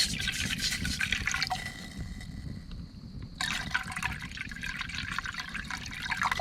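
Hot water pours into a food bag outdoors, a steady close liquid stream with a short pause midway before the pouring resumes.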